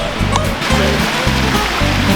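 Water rushes steadily in a loud, close, continuous flow at an empty Vail ski resort in Colorado, with a rhythmic low thumping beneath it.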